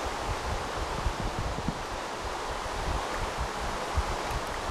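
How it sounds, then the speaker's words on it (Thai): Steady rain falling in the Minecraft video game, a loud, continuous dense hiss with no breaks and no voices. "ฝนตกอีก"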